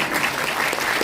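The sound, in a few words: applause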